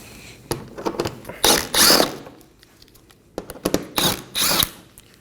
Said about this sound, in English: We're going to make our way under the vehicle and remove 8 10mm bolts.